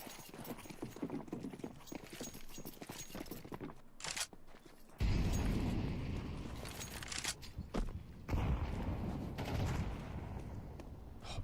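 In a Counter-Strike match, gunfire crackles amid clattering in-game action, then a sudden heavy grenade blast hits with a loud burst of noise, followed by more shots and rumbling.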